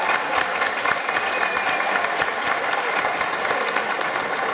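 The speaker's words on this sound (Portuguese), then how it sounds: "pedir uma salva de palmas para a equipe que é a responsável por esse prêmio" Sustained, dense applause from an audience fills an award ceremony hall, steady and loud from start to finish with no voices standing out.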